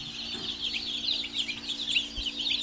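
A dense, continuous chorus of high cheeping from many baby chicks freshly arrived from a hatchery, steady and fairly loud throughout, with a low hum underneath.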